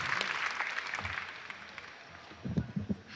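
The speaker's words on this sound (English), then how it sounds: "let's give you a round of applause" Audience applause for community groups at a mayor's event for homeless services, a fairly loud burst of clapping that thins out partway through before a few louder claps return at the end.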